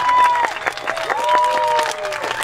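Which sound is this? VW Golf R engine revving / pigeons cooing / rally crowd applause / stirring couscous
rally crowd applause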